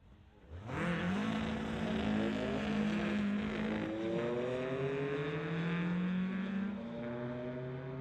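A 2003 Porsche and a Volkswagen Bug launch off the line in a drag race at a street-legal event. Loud engines rise steadily in pitch through the gears over several seconds, with no talking.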